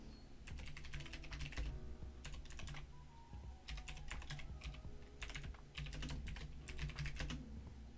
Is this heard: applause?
no